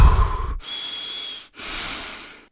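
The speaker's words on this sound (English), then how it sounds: "the easiest way to do this is deep inhales and deep exhales" Deep Wim Hof style high-amplitude breathing, a loud close breath followed by two long airy hissing inhales and exhales separated by brief pauses.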